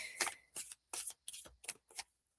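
Tarot cards shuffled by hand in six quick bursts separated by short pauses, each a crisp riffling flutter that is close and moderately loud, with no talking.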